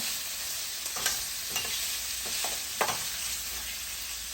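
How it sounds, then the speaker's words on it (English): Kielbasa sausage browning in a skillet crackles with a continuous sizzle, broken by several soft scrapes and pops as the pieces are stirred and moved around the pan. "brown the kielbasa in the skillet 3 to 4 minutes on each side"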